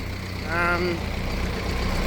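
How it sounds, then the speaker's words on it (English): A silage blower on a farm, set up for topping off a corn silage silo, starts and settles into a steady low engine idle with a brief rising whine, heard up close. "Just going to start up the blower and kind of leave it on an idle."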